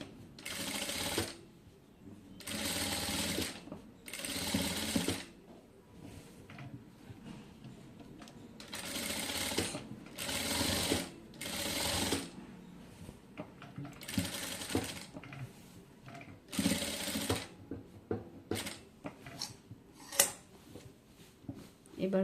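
A sewing machine stitches the neckline of a designer blouse in repeated bursts of rapid mechanical whirring, each run a second or two long, separated by short pauses and light handling noises.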